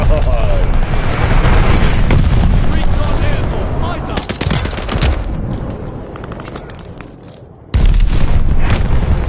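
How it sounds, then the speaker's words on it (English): Enemy glide bomb explosions in Call of Duty: Vanguard, loud rolling blasts and dense gunfire filling the scene, dipping briefly before another heavy impact hits. "Enemy glide bombing."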